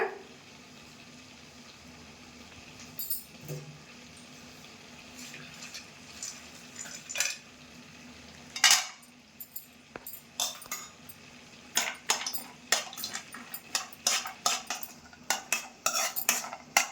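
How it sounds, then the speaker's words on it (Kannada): Dry fruits fry in a spoonful of ghee in a kadai for carrot halwa, a spoon scraping and clinking against the pan in scattered strokes that grow busier, over a faint low hiss. "ಈ ಕಡೆ ಒಂದು ಕಡಾಯಿನ ಇಟ್ಕೊಂಡು ಅದಕ್ಕೆ 1 ಸ್ಪೂನ್ ಆಗುವಷ್ಟು ತುಪ್ಪ ಹಾಕ್ಕೊಂಡು ಡ್ರೈ ಫ್ರೂಟ್ಸ್ನ ಕರ್ಕೊಂಡು ತಕ್ಕೊಳ್ಳೋಣ"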